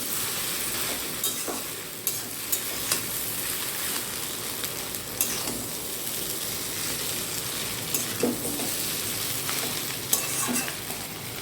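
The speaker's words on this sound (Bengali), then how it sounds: "ভেজে রাখা ডিম, ভেজে রাখা সবজি, সব কিছু দিয়ে আবার একটু ভালো করে নাড়াচাড়া করে নেব।" Chow mein with fried egg and vegetables is stir-fried in a pan, giving a steady close sizzle with scattered scraping and clinking stirring strokes throughout and no talking.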